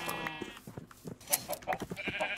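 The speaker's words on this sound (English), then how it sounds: "Give me your wool, you naked sheep." Sheep bleat in the Minecraft video game, several short wavering cries overlapping with clicks and game sounds, fairly close and busy, with no talking over them.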